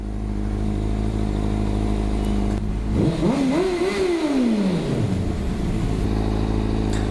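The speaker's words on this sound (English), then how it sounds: "You basically rev it to where you need to go" Up close, a motorcycle engine idles, then revs up in a rising and falling sweep that lasts about two seconds before it drops back to a steady idle.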